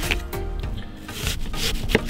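A knife cuts onions on a board for caramelizing, a few irregular close chopping taps and scrapes without talk.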